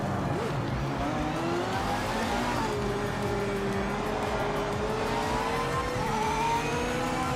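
Race car engines roar in Project Motor Racing, a dense pack of revving, rising and falling motors whining through gear changes, loud and continuous as cars jostle close together.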